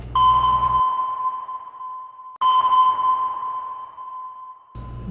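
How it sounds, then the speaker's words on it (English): Submarine sonar pings sound in a slow pattern, each a clean high tone ringing out and decaying with an echoing tail, two full pings followed by the start of a third. "Submarine."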